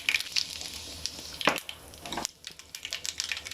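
Crackling, popping sizzle of mustard seeds hitting two spoons of hot oil with dried red chillies, with a few sharper spits and crackles over a steady frying hiss.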